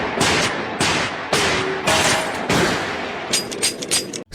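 Repeated pistol gunshots in a Majisuka Gakuen Season 5 drama scene, a loud series of sharp shots fired one after another at uneven intervals, close and echoing.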